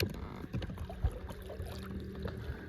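A boat's outboard motor labours through very shallow, silty lake water, giving a low muddy churning rumble with splashy water noise close by.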